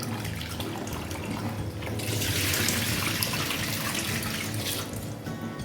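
Rice being washed by hand in water, the grains gently rubbed to rinse out starch, as water splashes and swishes, growing louder midway and then easing off, with no talk.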